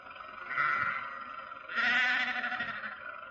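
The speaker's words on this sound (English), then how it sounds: "Confound that man with his sheep." Sheep bleating on a country road during an old-time radio detective drama: two drawn-out, wavering bleats close by, the second louder and longer, with no talk over them.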